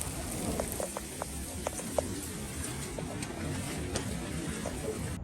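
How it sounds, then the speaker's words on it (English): Golf ball sized hail pelting down in a storm, scattered sharp impacts ticking over a steady hiss of falling ice, with faint voices in the background. "That's some big hail."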